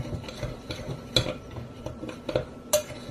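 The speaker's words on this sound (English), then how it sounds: "I just take my hand and just mix all these together, or I'll just use the spoon" A spoon scrapes and clinks against a mixing bowl while bird suet ingredients are stirred together, giving several scattered metallic taps and scrapes at close range with no voices.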